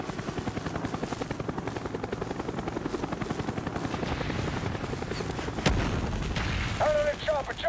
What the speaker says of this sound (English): Out of the chopper, jump!